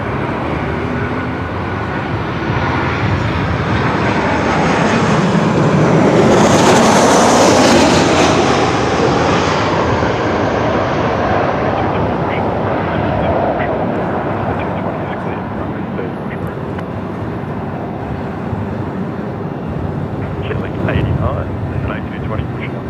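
Qantas airliner at Melbourne Airport passing close, a broad loud jet roar that swells to a peak and then slowly fades, with people talking over it.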